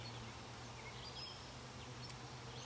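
Honey bees in a weak, struggling hive give off a steady low buzzing hum, close and continuous, with no voices over it.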